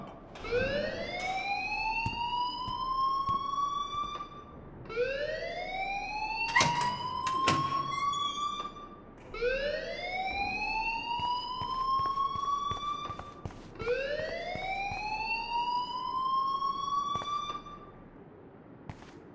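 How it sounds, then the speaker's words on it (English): A school alarm rings in Life is Strange, a rising electronic siren-like whoop repeating about every four and a half seconds, steady and moderately loud. Brief clicks and thumps sit under it. "please turn off that alarm since that's your job"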